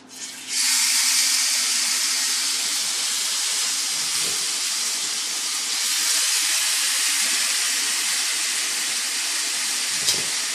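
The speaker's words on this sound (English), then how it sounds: "before you pop the pork on. Now you're only searing it, so it's real quick" Pork searing in hot bacon fat in a pan for Mexican posole, a loud, steady broadband hiss and sizzle that starts abruptly and holds without break, with no talk.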